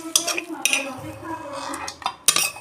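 Cooked eggplant curry is tipped out of a metal pan, with several sharp clinks and scrapes of a spoon against the pan spaced through the pour, close by and with no talking.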